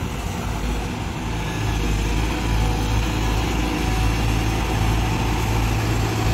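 An SY 200 C engine runs steadily at idle with a low, continuous rumble, close by and alone, with no voices.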